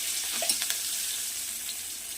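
Spinach and chana dal vada batter dropped into hot oil, with a continuous hissing sizzle and a couple of soft plops early on, close and moderate in level; no talk.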